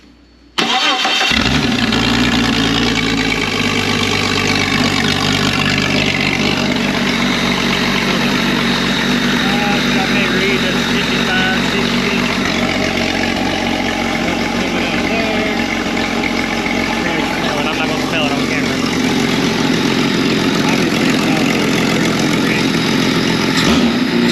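A cold engine fires up at a work job and settles into a steady, loud idle that runs on continuously, with a deep low rumble throughout.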